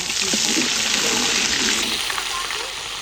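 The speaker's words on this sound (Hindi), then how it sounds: "ये जी हमारा अदरक लहसुन बीच में ऐड होने लगा" Ginger and garlic frying for keema karahi in an outdoor village kitchen, a steady broad sizzle that stays loud and close throughout, with a faint voice underneath.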